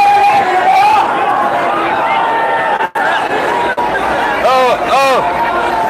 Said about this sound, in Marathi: ना भूतो ना भविष्यती प्रचंड इतकी गर्दी।